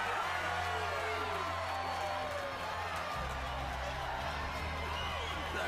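A dense crowd cheers and whoops for a competitor at a Kibaoh Klashers driving event, a loud, continuous roar of many voices with shouts rising over a steady low hum throughout.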